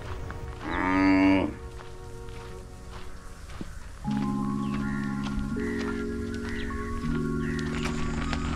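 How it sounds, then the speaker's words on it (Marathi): Cattle low at a riverside resort cowshed in Dive Agar: one loud nearby moo, then long, drawn-out lows that overlap and carry on steadily, with faint shuffling hoofsteps in the background and no voices. "गायी चरायला जात आहे"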